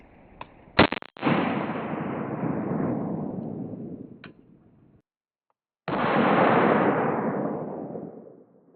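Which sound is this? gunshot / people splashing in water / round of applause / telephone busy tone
gunshot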